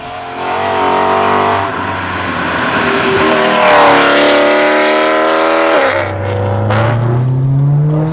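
A BMW E92 M3 with an aftermarket exhaust revs hard, its loud engine note climbing and falling through sustained pulls, then dipping briefly before rising again, close and alone.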